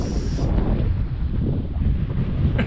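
Wind blows hard outdoors on a windy day, buffeting the microphone with a constant low, rough rumble for a few seconds.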